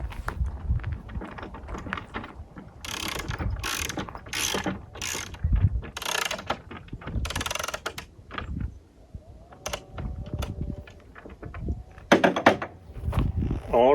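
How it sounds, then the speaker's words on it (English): A ratchet wrench clicks in rapid bursts while bolts are driven into wooden desk shelves, the close mechanical ratcheting coming in repeated runs with short pauses and a few knocks between them. "So now I can just pop the nail and we can bolt these in."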